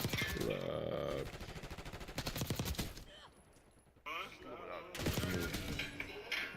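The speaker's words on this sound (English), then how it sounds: "So the more we move and the more we get gunshot" Video game gunfire in rapid bursts, loud and close, with bursts clustered around sharper impacts and a voice talking over parts of the action.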